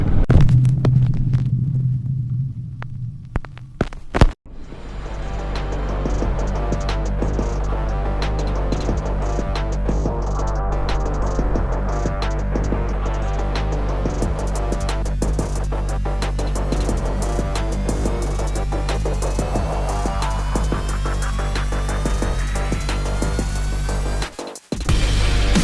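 Kawasaki Vulcan 900 Custom cruiser motorcycle engine on the move: a steady, deep rumbling drone with wind noise, a brief dropout near the start, and a gradually climbing whine toward the end, heard alone without speech.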